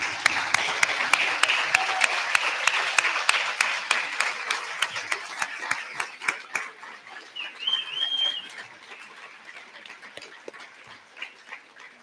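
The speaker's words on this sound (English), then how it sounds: "join me in a round of applause for our graduating seniors" Audience applause for graduating seniors at a high school senior awards night, crowd clapping steadily under a loud rhythmic clap beat that fades after several seconds, with some animal-like squeaks and whoops mixed in.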